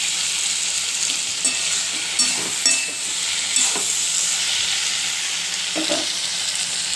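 Fish head frying in a pan with vegetables and Malabar spinach for a Bengali chorchori, a steady close sizzle broken by occasional stirring scrapes, with no voices.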